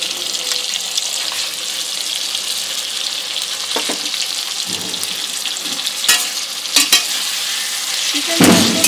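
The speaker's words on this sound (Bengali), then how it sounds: "চিকেনটা একটু হালকা কালার আসা পর্যন্ত ভেজে নেব।" Chicken pieces frying in a pan for a chicken jalfrezi, with a steady sizzle and occasional scraping stirs of a spatula, and a brief clatter near the end.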